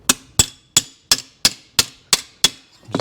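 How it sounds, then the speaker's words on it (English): A hammer strikes against a dolly on the metal battery box of a Kawasaki F7 Bushwacker, eight sharp ringing metallic blows at an even, steady pace, close and alone. "this is where we're going to need to do a little hammer and dolly work"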